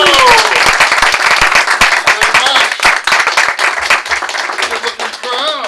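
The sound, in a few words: audience applauding a magician's entrance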